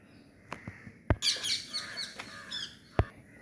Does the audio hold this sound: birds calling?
yes